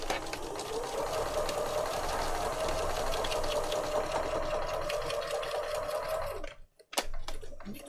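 Sewing machine stitching lace on a junk journal page, a steady fast mechanical whirr running continuously and close, then stopping abruptly with a few clicks near the end.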